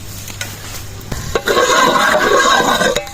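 Whole spices, bay leaf, star anise, cloves and cinnamon, dropped into hot oil in a cooking pot for chana pulao, a few light taps followed by a steady close sizzle lasting over a second.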